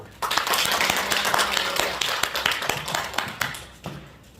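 Workshop attendees give two visiting professors a round of applause, bright close clapping from a modest group that holds steady, then thins out and fades toward the end.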